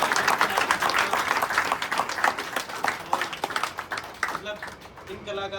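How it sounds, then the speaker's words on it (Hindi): A theatre audience applauds after a stage play: dense, continuous clapping that thins toward the end, with a voice speaking over it. "एक बार ऑडियंस अपने लिए ज़ोरदार तालियां बजाइए।"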